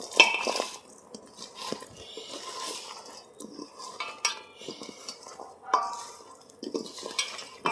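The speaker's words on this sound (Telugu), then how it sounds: "ఇప్పుడైతే మంచిగా అన్నీ కలుపుకోవాలి." A spoon stirs a mango pickle mixture, scraping and clinking irregularly against the container in quick bursts, close and fairly loud with no talking.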